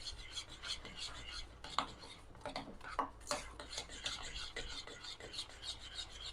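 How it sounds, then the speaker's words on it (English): A spoon scrapes and rubs around a pot of chocolate mousse mixture, soft and close, with irregular rasping strokes and small clinks. "Keep stirring, and it'll smooth out."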